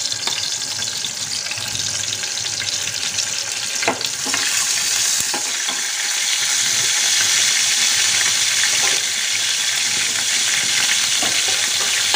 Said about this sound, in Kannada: ಈಗ ಶೇಂಗಾ ಕಾಳು ಹಾಕೀನಿ ಒಂದು ಸ್ವಲ್ಪ ಫ್ರೈ ಮಾಡ್ಕೋಬೇಕು ಶೇಂಗಾ